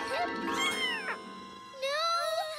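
A cartoon kitten gives several high, rising meows, close and clear, with a short pause between bursts.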